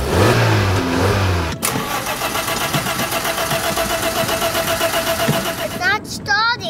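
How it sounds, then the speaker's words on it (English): Cartoon race cars fire up their engines at the start of a race, a burst of mid-pitched revving and idling rumble under background music, with a character's voice speaking over the start. "Racers, start your engines!"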